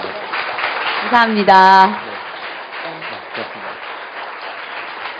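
Audience applause for an actress at an Arko arts-and-humanities concert, with steady clapping across the room. A voice speaks briefly over the clapping near the start, and the applause continues at moderate volume afterward.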